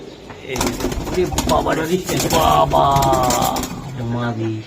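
Giribaz high-flyer racing pigeons coo in low, rolling calls close by, over a busy background of rustling and other noise.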